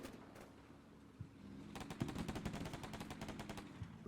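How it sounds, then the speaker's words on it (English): Infantry gunfire in the Combat Mission Black Sea war game: rapid bursts of automatic rifle and machine-gun fire crackle densely through the second half, following a few isolated shots and a dull thud earlier, fairly close and sharp. "A bit of American infantry fire."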